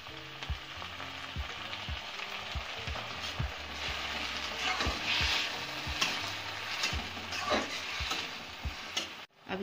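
Chopped tomatoes sizzle in a hot pan while macaroni is being made, a steady frying hiss with regular knocking taps of a stirring spoon, close and without voices.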